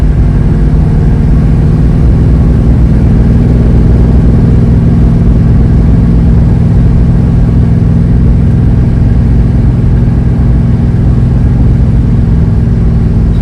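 A 1967 Dodge Coronet cruises at about 70 on a back road, its engine a loud, steady, low drone with constant road and wind roar, heard from inside the car without interruption or speech.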